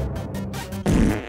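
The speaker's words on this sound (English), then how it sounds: "You are no match for the world's deadliest fart!" A cartoon fart sound effect for the character Wario in a Super Mario parody: one short, thick, loud burst that hits suddenly after a moment of quieter background and holds for about half a second.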